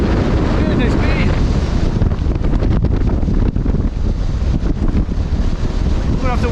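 Strong gusty wind at a wild camping spot buffets the microphone in loud, roaring bursts, with rushing noise that swells and dips throughout.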